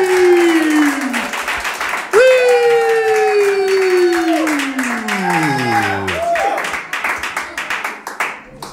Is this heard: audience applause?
yes